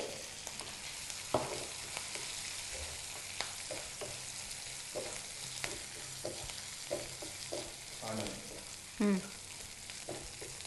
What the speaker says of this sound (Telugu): ఇవి వేగుతుండగానే మనం ఇందులో పచ్చిమిర్చి ముక్కలు వేసుకోవాలి